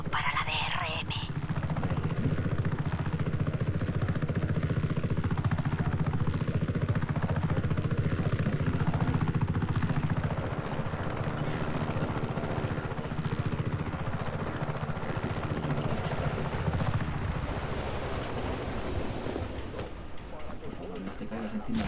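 A helicopter in the video game Just Cause 3 drones steadily with a low rotor and engine rumble through the whole stretch, while a person talks over it.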